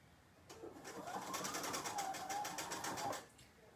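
Close sewing machine stitching a quarter-inch seam on classic pajama pants, a steady rapid whirring run of about two and a half seconds with even rhythmic needle pulses, starting and stopping cleanly.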